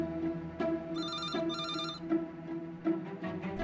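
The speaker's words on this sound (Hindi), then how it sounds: "तनर साहब इस वक्त फोन रिसीव नहीं कर रहे हैं" A telephone rings repeatedly and goes unanswered, with several bursts of bright electronic ringing that stand out over a steady low hum and background tones in an indoor setting.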